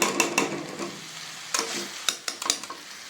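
Ghee crackles and sizzles in a pan of radish and fish head curry, with a steady hiss broken by several sharp stirring scrapes and spits, close up and with no voices.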